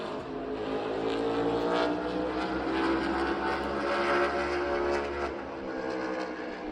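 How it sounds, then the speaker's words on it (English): NASCAR stock car engine roaring through a qualifying lap at Bristol Motor Speedway, a loud, steady, unbroken drone of engine noise lasting the whole stretch with no talking. "It's insane even how loud like one of these cars are, let alone like 36 of them."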